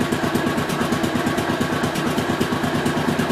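A 1967 430 motorcycle engine idles nearby, a steady loud rumble with a quick even pulse and constant vibration throughout, no voices.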